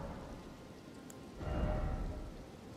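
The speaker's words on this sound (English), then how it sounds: "It's raining." Rain falls in the open-world game Elden Ring as a soft, steady patter at low volume, briefly swelling into a heavier wash near the middle before settling back.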